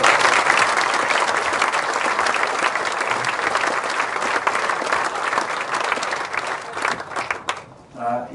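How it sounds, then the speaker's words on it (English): A crowd at a football club hall of fame induction applauds the club's league championship, sustained loud clapping that tapers off near the end as a voice begins. "I think they deserve a round of applause for that."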